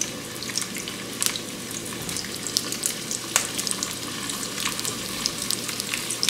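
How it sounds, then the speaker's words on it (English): Italian sausage frying in a pan while it is broken into crumbles, a continuous close crackling sizzle dotted with scrapes and small pops, with no talking over it. "You're going to put it in your pan and you're going to crumble it up"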